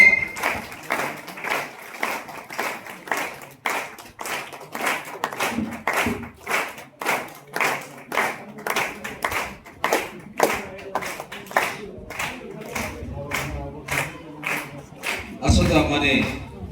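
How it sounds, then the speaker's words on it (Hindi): An audience claps rhythmically at a night church festival, a steady, evenly spaced beat of unison claps repeating many times, with a louder burst of noise near the end. "ताली जोरदार।"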